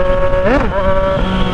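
Yamaha MT-09 motorcycle with a straight-pipe exhaust downshifting from fourth to third, heard close as a loud engine drone whose pitch swoops up and back down with a rev blip, then settles into a lower steady tone.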